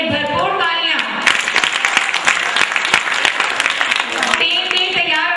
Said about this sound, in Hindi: उनके लिए भरपूर तालियां